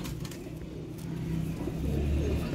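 Teddy breeder pigeons give low, murmuring coos against a constant rumbling background, quiet and partly masked.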